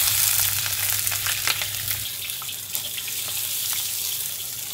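Pieces of crucian carp sizzle in a pan of oil and lard. A steady, close frying crackle runs throughout with a low hum underneath.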